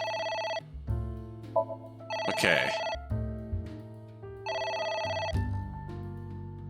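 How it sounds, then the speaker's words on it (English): Electronic telephone ringtone from the video game AI: The Somnium Files, two repeated bursts of a bright tonal ring over a game music bed, with a brief spoken word partway through. "Why are we ignoring the phone call"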